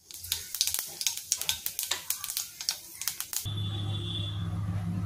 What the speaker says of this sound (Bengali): তেল গরম হয়ে গেছে, দিয়ে দেব কালো জিরে